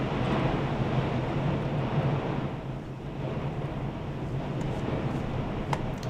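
Strong wind during a severe storm in Ohio roars steadily and loudly against the microphone, a broad continuous rush with slight swells and no voices.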